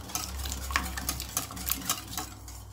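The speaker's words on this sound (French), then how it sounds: "je vais d'abord mélanger et puis je vais blanchir" Sugar gets mixed in a bowl while making an apple cake, quick clinking strokes of a utensil against the bowl in an uneven rhythm over a low hum, close up with no talking.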